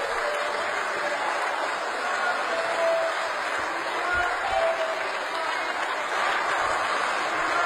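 A large audience makes a dense, continuous din of applause mixed with protest, murmuring and calls, fairly loud and steady throughout.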